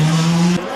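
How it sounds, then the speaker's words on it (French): Graf T14 race car at a hill climb, its engine holding a steady loud tone as it passes close by, then cutting off abruptly after about half a second into a quieter rumble. "Jean-Yves Doré en piste sur cette magnifique Grag T14"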